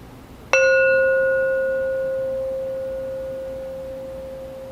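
A single struck healing tone, likely from a singing bowl or similar metal instrument, rings out with a sharp attack and a long, pure, slowly fading hum, close and clear with nothing else heard.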